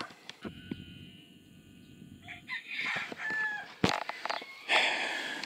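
Backyard chickens cluck and a rooster crows nearby, a drawn-out call followed by scattered clucks and squawks over a faint background hum.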